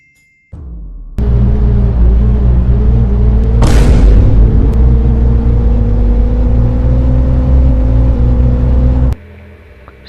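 In a video game, a car's engine roars at full throttle as it speeds off, a loud, close, sustained drone with a rising pitch and a sharp burst early on, stopping abruptly.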